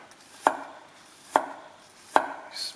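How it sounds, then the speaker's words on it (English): A very sharp knife chops garlic for a wild deer stew, three crisp, close thuds on a board spaced almost a second apart with quiet pauses between them. "Next step will be cutting the garlic into small pieces"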